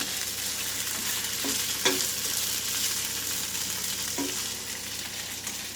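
Vegetables sizzle steadily in a hot pan, a continuous bright crackling hiss with a few soft stirring knocks, close and moderately loud, no voices.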